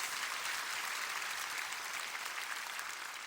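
Dense, steady applause from a seated audience at a church prayer gathering, sustained and fairly distant with no voices over it.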